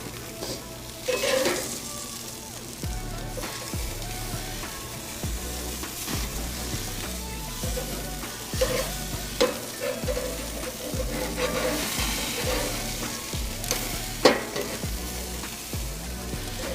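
Salmon pieces sizzling in a pan after flipping, some turning crispy, with a constant frying hiss broken by scraping and clinking of a utensil against the pan, close and fairly loud, with faint background murmur.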